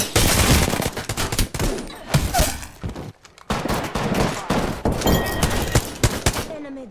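Dense automatic and burst gunfire from the video game Apex Legends, loud and nearly continuous, with rapid rattling volleys and sharp shots stacking over one another and only a brief lull midway.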